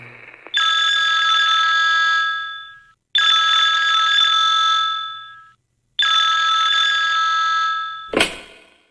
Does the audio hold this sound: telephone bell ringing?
yes